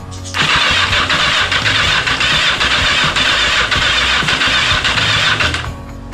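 A 1983 Yamaha XJ900 motorcycle engine cranks over on its starter for the first time, a loud, steady whirring churn that holds for about five seconds without catching, then cuts off.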